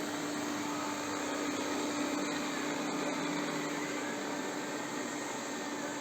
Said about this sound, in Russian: Так, запускаем пылесос.